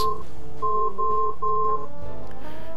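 Cell phone ringing from inside a pants pocket, a repeating electronic tone pattern in short bursts, muffled and close, with no talking.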